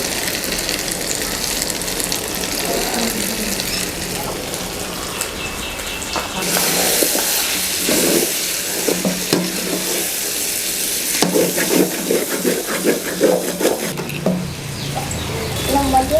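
Mutton fry sizzling in a pan while being stirred, a loud, dense crackle with scraping stirring strokes that swell and fade, close and with no voice over it.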